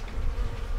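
A dense, steady buzz of many bees swarms close by, filling the short moment without a break.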